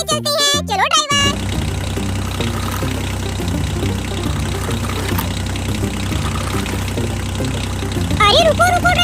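A toy Sonalika tractor with a sound-effect engine starts with a sputter, then drones steadily as it drives, loud and close, with a voice and music layered over it.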